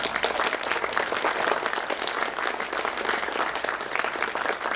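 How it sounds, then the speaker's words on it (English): An audience applauds continuously, a dense steady clatter of many hands clapping throughout, fairly even in loudness. "give her a big round of applause."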